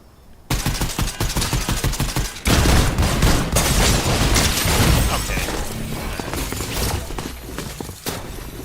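Gunfire in the video game Fortnite, with a shotgun in play: dense, loud bursts of rapid shots and crackling impacts that run almost continuously after a brief quiet start.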